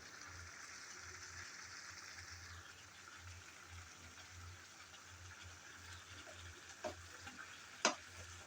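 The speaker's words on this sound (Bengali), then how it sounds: "এভাবে কিছুক্ষণ ভালোভাবে নেড়ে চেড়ে চিকেন আর লাউ কষিয়ে নিতে হবে" Faint, low sizzling of chicken frying with bottle gourd in a pan, a quiet continuous hiss with a couple of brief utensil knocks near the end.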